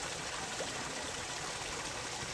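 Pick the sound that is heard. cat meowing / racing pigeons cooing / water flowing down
water flowing down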